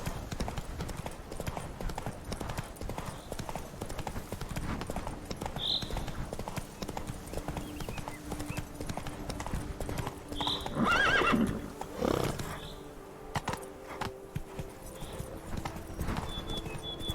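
Horse hooves clip-clop at a steady gallop with occasional whinnies in The Witcher 3, a continuous rhythmic patter running under faint background sound.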